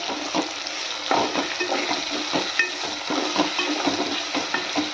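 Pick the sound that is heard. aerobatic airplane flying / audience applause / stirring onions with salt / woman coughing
stirring onions with salt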